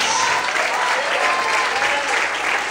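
In a church service, a congregation claps in dense, continuous applause, loud and steady throughout, with faint voices mixed under the clapping.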